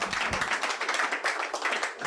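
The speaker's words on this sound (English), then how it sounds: "Let us give him another round of applause, please." An audience at a Nigerian donation campaign kick-off event claps steadily, a dense patter of many hands at moderate volume, continuous and unaccompanied by talk.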